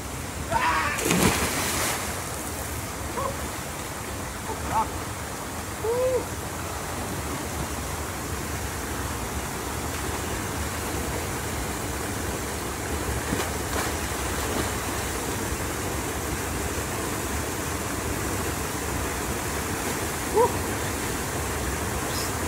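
A river beside a farm flows steadily as a broad, continuous rush of water, with a few faint splashes and brief distant voices.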